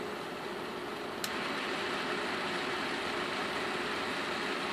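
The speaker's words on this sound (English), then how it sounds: "Hear the loco going faster, slower." An Aristo-Craft remote-controlled model locomotive runs and changes speed, giving a steady, close motor hum with a faint mid-pitched whine. No one speaks.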